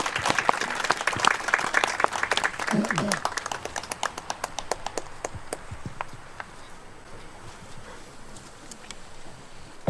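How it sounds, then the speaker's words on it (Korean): Scattered hand clapping from a small outdoor memorial gathering for a fallen activist, sharp distinct claps in the first half that thin out to sparse, faint claps, with voices murmuring underneath. "뜨거운 박수 좀 부탁드리겠습니다."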